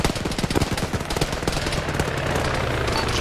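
Dense, rapid gunfire from a video game, bursts of automatic shots crackling close and loud, blurring into a continuous roar toward the end.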